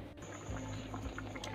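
Water is poured into a pot of rice and stock for pulao, a soft continuous liquid rush and gurgle heard close up and alone.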